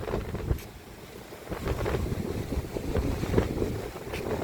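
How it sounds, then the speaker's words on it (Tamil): Steady, rushing wind in flood-hit Jaffna buffets the microphone with low rumbling gusts that swell and fade, no voices present. "சரியான காற்று அடிச்சு கொண்டு இருக்குது"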